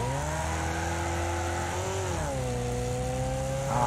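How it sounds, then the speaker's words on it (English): A race car engine in the Wreckfest video game drones and revs steadily, its pitch dipping and rising as it shifts, loud and continuous with no talk over it. "the sound of this car is gorgeous"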